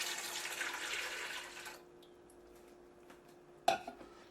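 Water runs and pours into a pot for coconut rice for about the first second and a half, a steady close rush, then quiet kitchen room tone with a brief clatter near the end.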